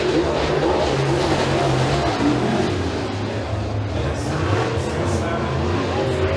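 A Super Late Model race car on a qualifying lap at Eriez Speedway, with a loud, continuous engine drone and shifting rev tones that carry across the whole stretch under a public-address voice.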